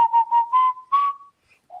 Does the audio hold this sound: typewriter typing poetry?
no